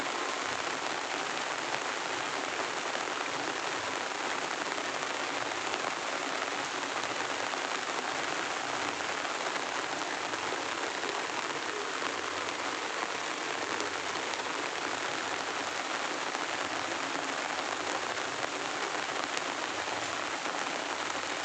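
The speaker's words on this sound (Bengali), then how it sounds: "দেখো সব বৃষ্টি করছে পুকুরের জলটা কত সুন্দর লাগছে দেখতে দেখো" Heavy rain pours onto a pond in a dense, unbroken hiss of drops that holds at a steady loudness throughout, with no voices.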